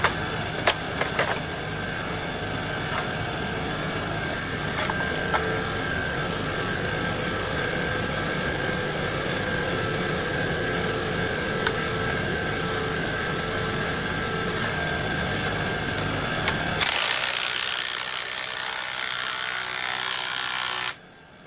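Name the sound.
impact wrench on a bolt welded into a stator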